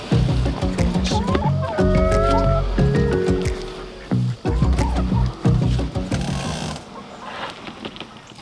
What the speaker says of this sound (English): Watch chickens coming out.